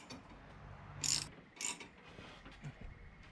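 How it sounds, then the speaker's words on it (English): Metal nuts being tightened on the frame of a restored salvage cast iron table, giving a few short ratcheting, clicking bursts at close range with quiet pauses between them. "I could always tighten it from up top."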